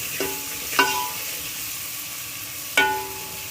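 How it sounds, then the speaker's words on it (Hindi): Spice masala frying in a pan while mutton curry is prepared, with a soft steady sizzle broken by a few sharp scraping clinks of a spoon against the pan. "अब हम इनको मिक्स करेंगे और 2 से 3 मिनट मसाले को फ्राई करेंगे।"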